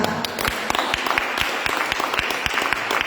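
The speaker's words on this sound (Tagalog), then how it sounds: "Palakpak." A church congregation at an equipping session applauds, with dense, close clapping and distinct sharp hand claps in a quick, steady patter for a few seconds.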